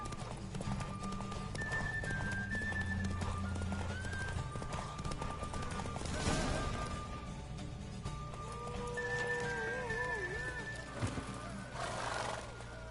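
Horse hooves clip-clopping at a gallop during a race in the Witcher 3 video game, with whinnies rising over the steady hoofbeats throughout.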